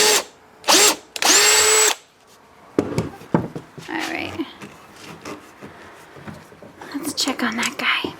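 A power drill bores into scrap wood in two short, loud bursts, followed by soft whispering and scraping handling sounds nearby.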